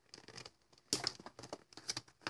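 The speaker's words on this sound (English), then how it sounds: "I'm just going to try to cut this with these scissors" Quiet snipping and crinkling of paper, with several small cuts and rustles in quick irregular succession, close by.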